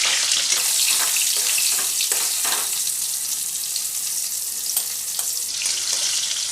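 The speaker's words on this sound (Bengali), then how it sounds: "সামান্য একটু নুন, সামান্য একটু হলুদ দিয়ে আলুটাকে একটু ভাজবো।" Potatoes seasoned with salt and turmeric fry in a pan over a medium-to-high gas flame, giving a loud, steady close sizzle broken by repeated scraping stirs. No one speaks.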